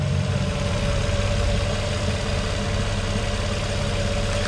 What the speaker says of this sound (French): on se retrouve sur ce moteur tournant, donc je vous fais écouter un petit peu